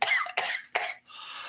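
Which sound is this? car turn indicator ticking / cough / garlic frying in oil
cough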